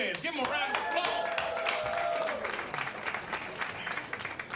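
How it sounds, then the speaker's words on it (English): Audience applause with distinct clapping rises at a Black History Month event in a DC jazz, soul and R&B venue, fairly quiet and brief, while a voice carries over the start. "Give him a round of applause."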